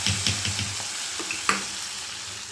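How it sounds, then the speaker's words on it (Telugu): Lentils are stirred into sizzling oil with asafoetida in a frying pan, where a steady close sizzle carries a few spoon taps and clinks. "పప్పులు వేసేసుకుందాం."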